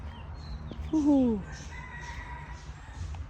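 A single junglefowl rooster crow rings out clearly for about half a second, set against steady outdoor background noise and faint distant bird calls.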